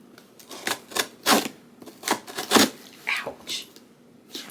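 Scissors snipping through a FedEx package during an unboxing: a string of sharp, close, crisp cuts and clicks in an irregular rhythm, with soft handling noise between them.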